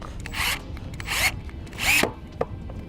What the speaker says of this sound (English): we'll now secure the ring terminal in place with the self-tapping screw